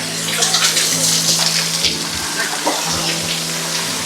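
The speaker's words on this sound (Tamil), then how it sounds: "தண்ணி விழுந்து அப்படியே கீழே போயிட்டு இருக்குது" Continuous rushing and splashing of falling water at the Ahobilam waterfall by Jwala Narasimha Temple, steady and fairly loud, with a faint voice briefly audible beneath it.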